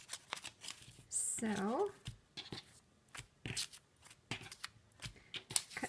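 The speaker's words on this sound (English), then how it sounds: "After I have sewn all my pieces together, it's time to cut them down." Scissors snip through sewn paper-pieced fabric, giving short crisp cuts and rustling paper between pauses, with a brief spoken word near the start.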